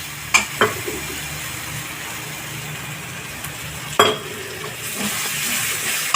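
Oil frying in a pan while cooking potol muthiya, a steady soft sizzle with a few sharp clinks of utensil against the pan, louder hiss swelling near the end.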